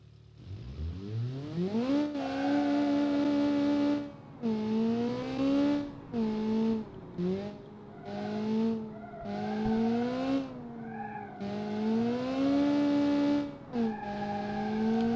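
A boosted Group B rally car driven hard, its engine note climbing and falling through repeated revs and gear changes, loud and close, with bursts of tyre skidding mixed in and no talk.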